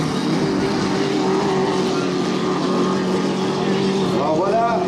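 Powerboat racing on a water course at Valleyfield, with a steady engine drone holding throughout and a rising whine near the end as a boat passes, under continuous commentary.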